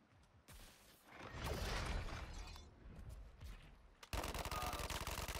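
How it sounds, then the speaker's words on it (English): Gunfire from the Suicide Squad: Kill the Justice League video game, a dense loud stretch of shots and impacts that ends in a sharp, rapid burst of continuous automatic fire. "Don't second thought. Shoot away,"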